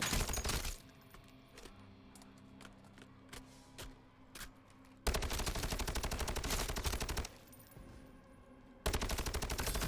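Rapid automatic gunfire from Modern Warfare Zombies rattles in sustained loud bursts, broken by single sharp shots and quieter stretches, as zombies are shot in a video game.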